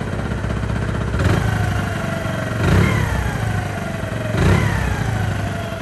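A Hero Splendor motorcycle engine, freshly repaired after gearbox and bore fitting work, idles with a steady putter and is revved three times, each throttle blip rising and falling back, close and loud.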